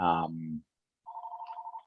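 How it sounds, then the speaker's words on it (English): A telephone rings inside a house, a short, warbling electronic ring heard alone after a voice cuts off, moderately close. "there's a phone ringing in my house"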